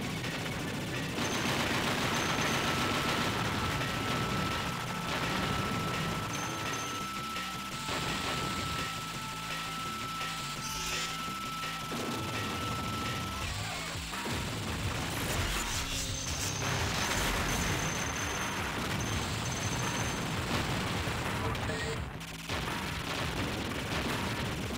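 Rapid, nonstop shooting in the arcade shoot-'em-up Giga Wing, a dense barrage of electronic gunfire with crashing hits and mechanical whirs that stays loud throughout, with faint voices underneath.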